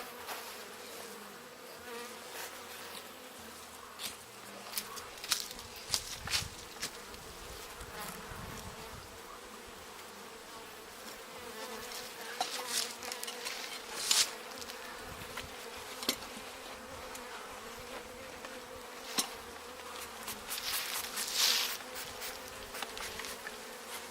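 Honeybees buzz around an open hive during a fall homestead inspection, forming a faint, continuous droning hum with individual bees passing close by now and then.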